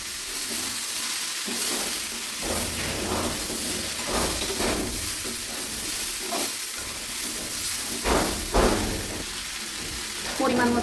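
Fried fish and pointed gourd being stirred into a curry in a pan, with a continuous sizzle and repeated scraping strokes of the spoon at an uneven rhythm, close and fairly loud.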